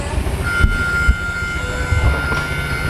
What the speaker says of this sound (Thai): นี่ครับรถราง